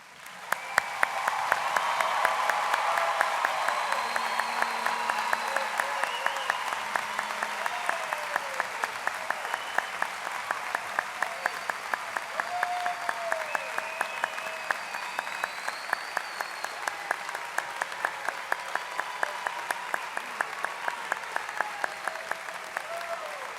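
A large audience applauds a graduating class at a college commencement ceremony, with sustained dense clapping that fills the hall for the whole stretch, steady and fairly loud, with no speech.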